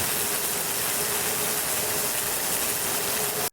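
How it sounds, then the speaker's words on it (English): Steady staticky electric crackle, a dense broadband hiss with fine ratcheting grit and a faint hum, continuous and loud for about three and a half seconds before cutting off abruptly. "We got some stuff for a crackle."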